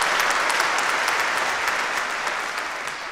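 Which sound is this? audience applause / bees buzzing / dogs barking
audience applause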